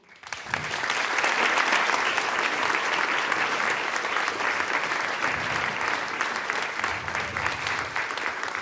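An audience in the hall of Delavski dom Hrastnik greets the singers of a song-contest final with sustained, full applause that starts abruptly and holds steady for over eight seconds.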